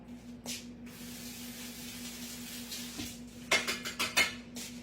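A kitchen spatula is rinsed under a running tap with a quiet, soft hiss of water, then a quick cluster of clinks and knocks as the utensil taps against the sink near the end.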